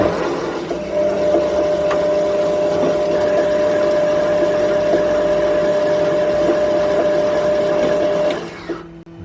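A homemade lathe runs with a steady mechanical whine and hum, close and loud, continuing unbroken for several seconds before winding down near the end.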